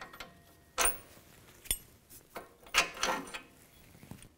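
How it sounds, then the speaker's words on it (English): An 18 mm socket wrench loosens a nut on a 2006-2010 BMW 550i during front wheel bearing work, giving several sharp metallic clicks and clanks at irregular intervals against a quiet background. "using an 18 millimeter wrench and 18 millimeter socket, take the nut off"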